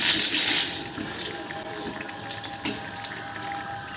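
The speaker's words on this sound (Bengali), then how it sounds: "এবার এই ঘিয়ের মধ্যে রাঁধুনি ফোড়ন দেব আর দুটো তেজপাতা দিয়ে দেবো" Radhuni seeds and two bay leaves hit hot ghee, a loud sizzling burst that gradually settles into a softer, crackling fry with scattered pops, heard close and without speech.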